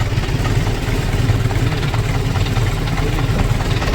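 A tractor engine runs steadily nearby in a field while spreading fertilizer, a loud, continuous low rumble with no breaks and no voices.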